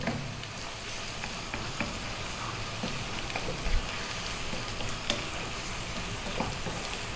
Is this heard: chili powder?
yes